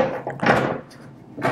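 A removable see-through hinged lid is set onto a Blackstone E-Series 17-inch electric griddle, giving a couple of close plastic thunks and a short rattle as it seats.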